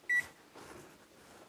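Kitchen oven timer giving two short electronic beeps while it is set, one near the start and another at the end, with faint room noise between.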